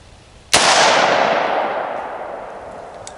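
A single loud rifle shot from a 5.45x39 round cracks sharply, striking drywall, its blast rolling into a long fading reverberation that lingers for a few seconds.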